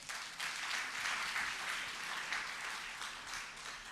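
Applause at a school class concert as first-grade accordion players are called to the stage: dense, steady clapping from an audience in a hall, fairly distant and even throughout.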